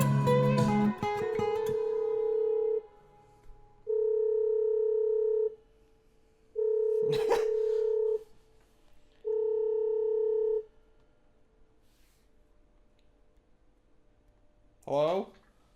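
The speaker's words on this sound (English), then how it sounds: "you could hear the phone ringing coming out of the guitar." A telephone rings in repeated long electronic bursts with pauses between, picked up through an acoustic guitar's pickup, after a strummed guitar note at the start and a brief click in the middle.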